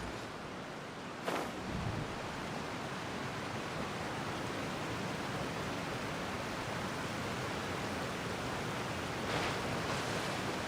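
Waterfall in Genshin Impact, a continuous broad roaring rush of falling water filling the scene, steady and close, with a couple of brief louder bursts.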